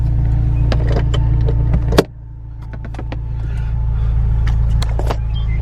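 A Honda S2000 convertible's soft top is raised by its electric motor, a steady mechanical hum over a low idling rumble, with a sharp clunk about two seconds in and scattered small clicks, up close.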